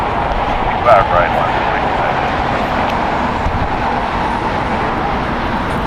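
A Cathay Pacific Boeing 777 waits for departure at LAX, heard as a continuous broad jet roar mixed with airport ambience, and voices come through over it.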